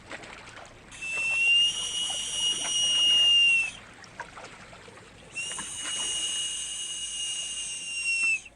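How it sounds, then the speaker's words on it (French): A person whistles two sustained, wavering phrases separated by a short pause, clear and fairly close over a faint background. "Vous le voyez, je siffle."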